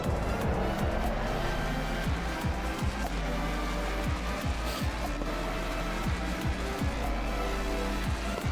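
GT3 race cars at Suzuka in Assetto Corsa Competizione, several engines droning steadily with repeated passing surges and gear-change blips, running continuously and fairly close.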